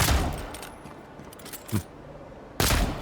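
Pistol shots in Avowed fired at breakable boxes, three sharp reports spaced apart: a loud one at the start, a smaller one in the middle, and another loud one at the end over a quiet background.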